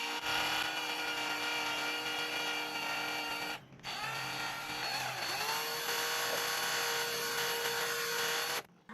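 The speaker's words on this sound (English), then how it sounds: "I'm helping myself with the drill." A power drill spins to twist wire around a 2.5 mm 6013 welding electrode. Its steady, close whine runs almost throughout, with one brief pause partway through before the drill starts again.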